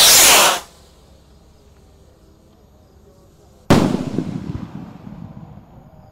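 Night fireworks and firecrackers go off in two loud, sharp bursts, the first dying away into quiet and the second followed by crackling that fades over a couple of seconds.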